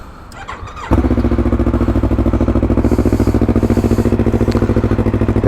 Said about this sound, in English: Time to start her up.